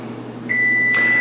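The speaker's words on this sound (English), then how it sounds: "There's the timer." An oven timer beeps in a kitchen during cookie baking, one clear sustained electronic tone sounding alone over a steady background hum.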